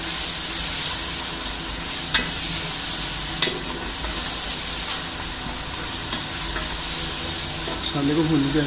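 Onions, cumin and masala sizzle and hiss steadily in a hot pan while a spoon scrapes and stirs, with a couple of sharp clinks and a louder burst of frying near the end.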